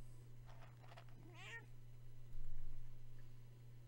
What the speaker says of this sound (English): Buddy, don't meow with food in your mouth.